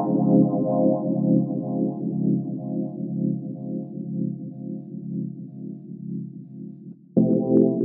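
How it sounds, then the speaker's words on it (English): Electric piano run through an auto filter effect in an Ableton Live remix of a song, sustained warm chords with a slowly sweeping, wobbling tone, then a louder, brighter chord change near the end. "So I took the existing electric piano and I applied the auto filter on here."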